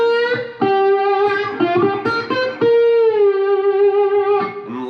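A slide guitar lick plays alone, a string of plucked notes with gliding pitches that steps downward and settles on a held G, close and clear.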